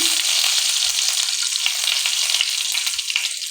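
Ginger, bay leaf, cloves, cardamom and cinnamon sizzling in hot oil, a steady close crackling hiss that carries on unbroken, with a faint stirring knock or two.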